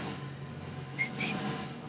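A person whistles on a lively French entertainment show, giving two brief, thin high notes about a quarter second apart over a steady quiet room background.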